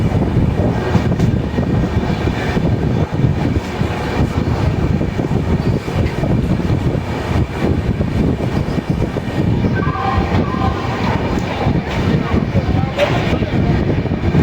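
Cholan Express passenger train pulling into Tambaram station on Southern Railway, a steady loud rumble of wheels and carriages heard from onboard, with faint voices and a brief squeal near the end.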